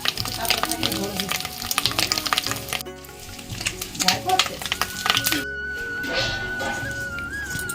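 An egg fries in a pan with a continuous close sizzle and occasional stirring clatter, while people talk over it and a thin whistling tone rises near the end.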